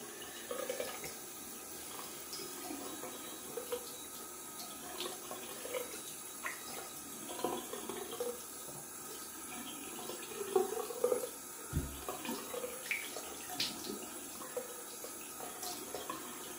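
A tap runs steadily in a sink, water splashing and gurgling at a low level with occasional clinks and knocks.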